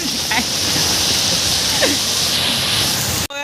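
Rain falls steadily around someone walking under an umbrella, producing a continuous broadband hiss that is fairly loud and even, cut off abruptly at the end.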